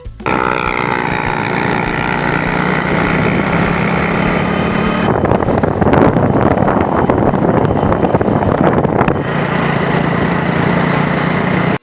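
A motorcycle inherited from a cousin's father and still running well, its engine droning steadily while being ridden, with rising wind noise and rougher roar in the middle stretch, loud and close throughout.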